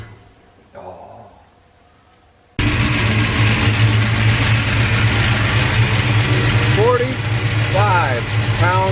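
A long-unused Chrysler 318 V8 engine idles with a loud, steady, even rumble that kicks in abruptly after a quiet start and runs on, with a voice speaking briefly near the end.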